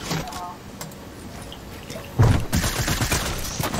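Gunfire in a Fortnite Zone Wars match, a burst of loud, dense shots that kicks in partway through and keeps going to the end over a steady game background.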